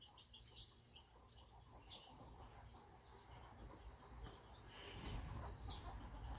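A mother hen clucks softly among other birds, brief faint calls scattered over a steady rustling outdoor background that grows slightly louder near the end.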